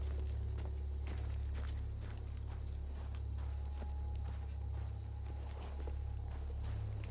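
Horse hooves clip-clop at a steady walking rhythm in Battlefield 1, a moderately loud, continuous patter over a constant low engine-like drone, with no voices.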